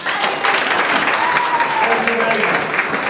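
A conference audience claps warmly for a speaker being introduced, a full, even burst of applause lasting a few seconds with some voices mixed in.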